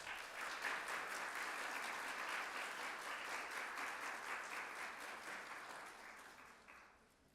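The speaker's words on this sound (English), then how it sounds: "Now a round of applause" Steady applause from the audience at a spring nurse pinning ceremony, a dense wash of clapping held for several seconds and fading toward the end.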